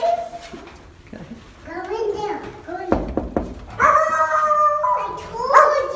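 A house dog howls and yips in short rising bursts, near and moderately loud, mixed with a voice and adult talk.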